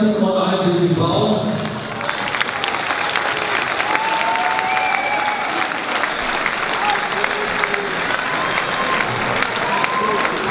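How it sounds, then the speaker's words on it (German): A crowd at a fight night event applauds two female fighters, a dense, loud wash of clapping and cheering that continues throughout, with a voice heard briefly at the start. "Applaus für die beiden ersten und einzigen Frauen."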